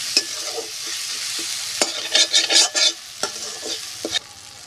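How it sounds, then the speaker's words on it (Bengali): Ginger and cumin fry in hot oil for a crab curry, a continuous sizzle broken by repeated scraping stirs and a few utensil knocks against the pan. "আদাটা দিয়ে দেবো, দিয়ে একটু ভালো করে ভেজে নেব"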